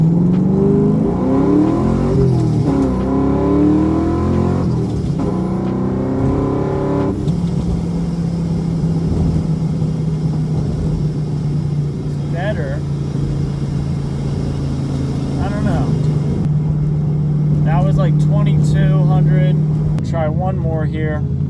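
A 500-horsepower Ford Mustang engine revs hard during street launch practice, rising and falling in pitch before settling into a steady, loud drone, with voices talking over it.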